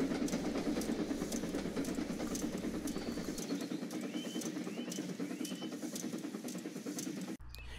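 A heavy goods train rumbles along the rails with a steady rhythmic clatter, close and loud, ending in a sudden cut.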